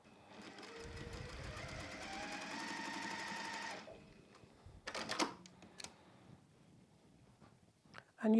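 A domestic sewing machine stitches quilt blocks for a Terrace Star quilt in a short, steady mechanical run. The quiet stitching stops after about four seconds, followed by faint handling clicks and rustles.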